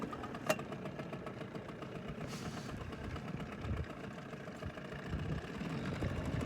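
A fishing boat's motor runs steadily nearby, a low, even droning hum with a brief knock near the start.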